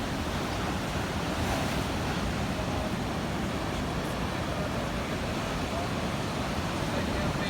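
Big ocean waves at Supertubos, Portugal, roar as a continuous, loud surf wash with steady broadband noise and wind buffeting the microphone.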